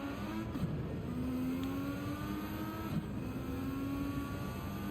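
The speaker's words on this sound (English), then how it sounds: "Listening to the car shift through the gears." A race car at the Japanese Grand Prix revs faintly and steadily, its engine note climbing through the gears with brief dips at each shift.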